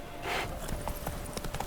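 Roach, a horse in the Witcher 3 video game, gives a brief whinny followed by quick, light galloping hoofbeats clip-clopping at moderate volume.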